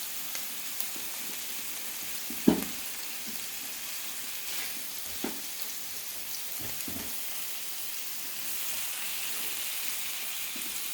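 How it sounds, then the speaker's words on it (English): Fatty processed corned beef fries in a pan with a soft, steady crackling sizzle, punctuated by a few sharper pops and spatters, heard fairly faint and close without talking. "So I actually would like to go ahead and put in the corned beef."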